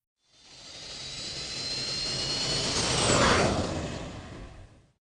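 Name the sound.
airplane jet engines during takeoff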